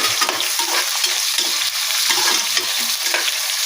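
Onions frying in a pan with green chilies for egg biryani, a dense close sizzle broken by steady stirring scrapes, loud and continuous with no voices.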